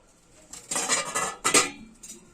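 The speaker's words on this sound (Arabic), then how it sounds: "كده هنرمي التوابل اللي قلنا عليها للحمه ونبتدي نسقط اللحمه" Spices and pieces of meat for okra stew drop into a metal cooking pot with a couple of loud clattering thuds and short metallic scrapes, close and without talk.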